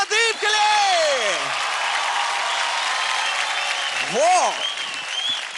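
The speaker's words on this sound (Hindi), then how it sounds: "जोरदार तालियां हो जाए प्रदीप के लिए" Studio audience applause for Pradeep on Dance India Dance, a continuous loud clapping wash with sweeping tonal sound effects rising and falling over it and a brief voice near the start.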